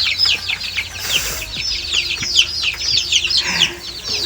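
Meat chickens cluck inside a cheap cage in a farm coop: many overlapping, close, busy clucks and chirps with a brief louder squawk, continuous throughout and with no talking.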